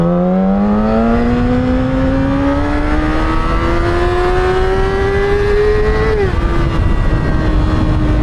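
A Yamaha R6 motorcycle engine pulls hard in first gear, a loud close whine rising steadily in pitch for several seconds before dropping sharply at a shift and settling into a steady drone.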